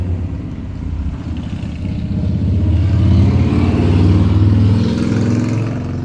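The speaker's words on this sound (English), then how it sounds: "there's a loud motorcycle" A loud motorcycle engine rumbles close by, building in intensity through the middle and staying heavy as it passes, with low clattering throughout.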